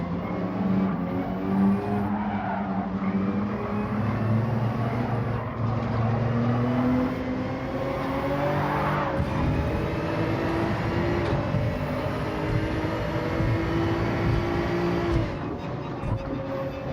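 Race cars running on a Tokyo street circuit in Gran Turismo 7, with a steady, loud engine drone that rises and falls through gear changes and continues without a break.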